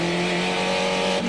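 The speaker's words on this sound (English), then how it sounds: "There's our onboard camera on top of the roll bar of Warren Stillwell's car, number 28." An SRF race car at St. Petersburg, heard from a camera on its roll bar: a loud, steady engine roar held at high revs, then a brief dip near the end.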